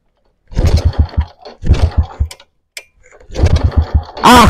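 A stalled motorcycle engine sputters in short bursts, catching for a second or so, cutting out into silence, then coughing again, close and loud.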